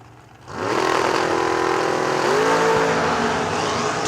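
Max Butcher's Corvette drag race car launches hard down the strip, a loud engine roar bursting in after a brief quiet, holding full power, then climbing in pitch as it shifts and pulls away.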